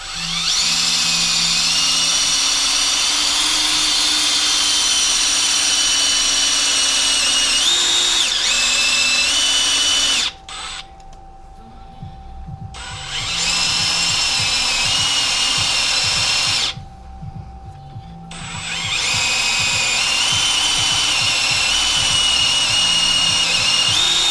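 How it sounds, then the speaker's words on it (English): A blunt, unsharpened drill bores holes on a Bridgeport milling machine, giving a loud continuous whine with a steady motor hum, broken twice by short pauses before cutting resumes. "I haven't resharpened the drill, so it's going to be a little bit awkward."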